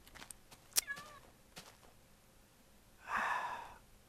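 A Minecraft cat gives a few short, clear meows that stand apart from one another, with light breathing and quiet clicks between them.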